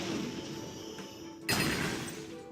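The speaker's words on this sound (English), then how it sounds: "I like the explosion effect on the cards when they're destroyed." Card explosion effect in the Yu-Gi-Oh! Legacy of the Duelist video game as a card is destroyed: a sudden loud burst at about one and a half seconds over a steady game soundtrack bed, no talking.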